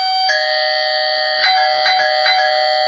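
A loud electronic doorbell rings continuously with a steady, bright multi-tone buzz, pulsing slightly a few times and no voices.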